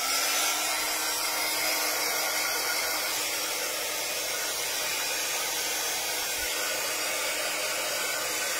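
A heat tool blows hot air onto a painted seaside artwork, a loud, continuous broadband whoosh with a faint steady motor tone underneath, running unbroken from start to finish.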